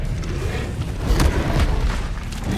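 An Expelliarmus spell cast in the video game Hogwarts Legacy lands as a deep, booming magical burst peaking midway, over a constant rumbling game soundscape.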